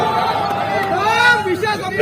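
A large crowd cheering and shouting at an outdoor political campaign rally in Aurangabad, a loud sustained roar of many voices.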